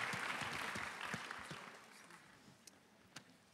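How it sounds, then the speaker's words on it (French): Audience claps at a French tourism university event, a fairly dense round of applause that fades over a few seconds to scattered final claps. "On peut applaudir."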